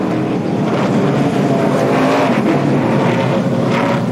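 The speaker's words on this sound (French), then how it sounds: "Un gros ajustement châssis, une nouvelle fois pour Ryan Newman. 4 pneus sur ce ravitaillement." NASCAR Nextel Cup cars at the 3M Performance 400 at Michigan during a pit stop with a four-tire change: a continuous, loud engine drone with rising and falling revving tones, without clearly separate tool sounds.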